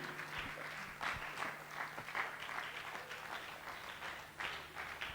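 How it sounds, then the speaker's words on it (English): Faint, continuous applause comes from an audience at a professional seminar in Nigeria, a soft steady patter of many hands with occasional sharper claps. "A round of applause for both of them."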